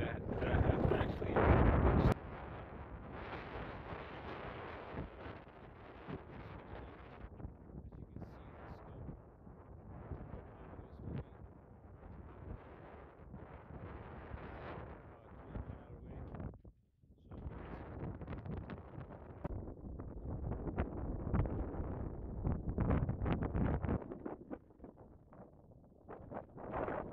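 Strong outdoor wind of about 20 mph at a shooting range, roaring and buffeting the microphone in uneven gusts, with a brief lull partway through before it surges again.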